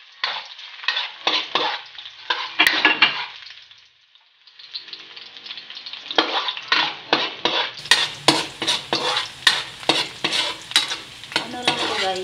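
Onion and garlic sauté in a hot pan for a shrimp dish, with a steady sizzle under repeated rhythmic stirring scrapes and clinks of a utensil against the pan, close and fairly loud, briefly pausing midway.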